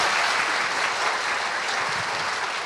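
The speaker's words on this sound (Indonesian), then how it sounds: "Kita berikan sekali lagi aplaus" An audience applauds continuously on an Indonesian talk show, dense, even clapping that fills the whole stretch without a break.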